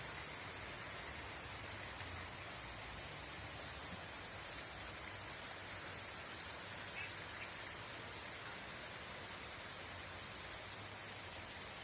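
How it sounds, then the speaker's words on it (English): Steady rain falls on a rainy day in Guarne, Antioquia, Colombia, a dense, even hiss of drops on surfaces that continues unchanged and moderately loud throughout, with no voices. "A rainy day."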